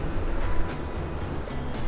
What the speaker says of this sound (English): waves crashing up here right along the path where people are walking and jogging and cycling